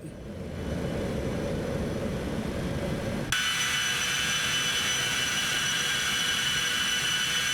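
Citation X business jet engines in the X-Plane 12 flight simulator, climbing just after takeoff with power being eased back: a steady, loud whine and roar that shifts abruptly midway to a brighter, higher-pitched turbine tone.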